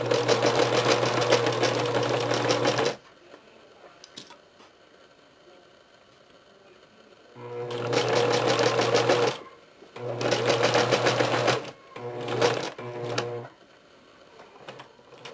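A sewing machine hums loudly in several long and short bursts of stitching, with quiet pauses between runs.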